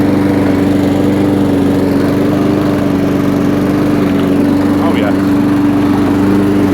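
A Honda 135cc petrol engine on a Champion lawnmower runs steadily at close range, a constant droning hum with no pauses, while a voice briefly speaks over it.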